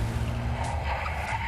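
A police jeep skids to a stop, with a loud, sustained tire squeal and engine noise up close, heard alone without speech.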